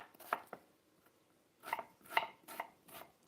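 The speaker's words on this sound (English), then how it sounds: "onions, I'm not going to bother cutting these up too small" Knife chopping onions on a board for soup, a handful of sharp, close thunks in two loose bursts with a pause between, quiet and with no voices.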